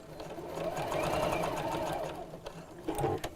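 A sewing machine stitches ribbon sandwiched between two pieces of fabric, a fast, even mechanical whir running for a couple of seconds before slowing into a few separate clicks, close and fairly quiet.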